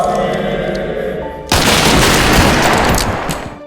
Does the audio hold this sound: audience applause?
no